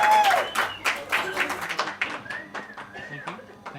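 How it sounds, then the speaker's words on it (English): At a wedding, guests applaud the groom in a close burst of clapping mixed with voices and brief cheers that gradually thins out. "why don't we give him a lovely round of applause?"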